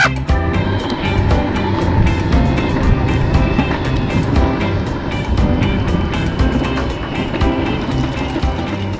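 An electric skateboard accelerates hard in GT mode, its steady, loud rush of motor and wheel rumble mixed with wind noise continuing without a break.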